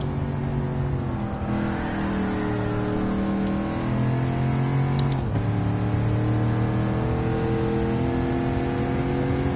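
Chevrolet Camaro engine in Gran Turismo 7 idling and revving steadily before a race, a loud continuous mechanical drone with shifting pitch and a brief higher flare midway.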